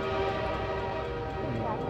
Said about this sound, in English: So we have to wait for this train to come by.